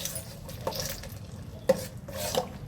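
A hot tempering of chilli, mustard seeds, fenugreek seeds and curry leaves goes into cucumber kadhi, giving a soft, close sizzle with stirring scrapes and a couple of sharp utensil clinks.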